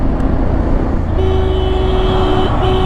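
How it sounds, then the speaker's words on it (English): Busy highway traffic with trucks overtaking, a broad steady road roar close by and a sustained horn blast sounding for over a second near the end. "Senseless overtaking by trucks."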